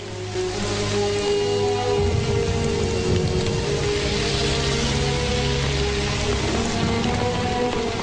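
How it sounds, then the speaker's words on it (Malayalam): Steady rain falls without a break, a dense, even hiss of drops on surfaces that stays loud and close the whole time, with no voices. "വീണ്ടും ഒരു മഴക്കാലം വന്നെത്തി"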